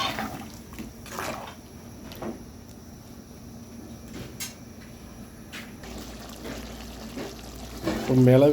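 Water is poured into a cooking pot, a faint, soft trickling splash in a quiet kitchen with small clinks and a voice speaking nearby.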